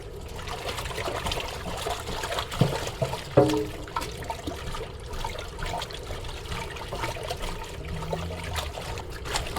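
An Amazon Basics silicone baking mat washed under a running tap, with a steady splash and trickle of water and a few soft knocks and rubbing sounds, close and continuous without speech.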